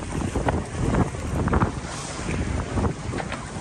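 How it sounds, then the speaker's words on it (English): Wind gusting across open water during a sea duck hunt on a boat in Maryland, a loud roaring rush buffeting the microphone with uneven surges throughout. "Wind is picking up, and it's a good thing."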